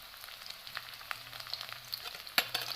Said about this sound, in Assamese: মই কাটি থোৱা পিঁয়াজখিনি দি মই অকণমান লৰাই দিছোঁ আৰু লগতে দি দিছোঁ দুটা শুকান জলকীয়া